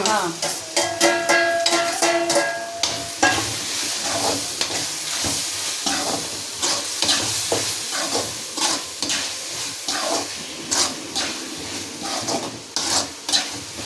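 Onions with ginger and garlic sauté in a pan for a chicken gravy, with loud rhythmic stirring scrapes and clacks over a continuous sizzle, close up and without speech.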